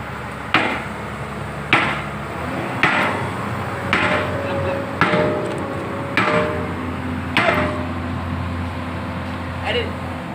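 Big hammer striking steel while an excavator bucket is fitted, about seven sharp metallic blows at irregular intervals of a second or two, close and loud over a low engine hum, with people talking nearby.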